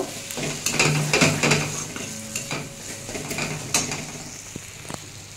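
Bitter gourd curry with kasuri methi stir-fried in a pan, steady sizzling with repeated spatula scrapes and stirring, busiest at first then settling, close and with no talking.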